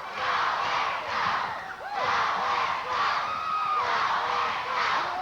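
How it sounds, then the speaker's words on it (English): A wrestling crowd roaring at the Sportatorium during a USWA match, a loud sustained surge of shouting and cheering voices that swells and dips in waves, close and dense throughout. "Listen to this crowd roaring here at the Sportatorium."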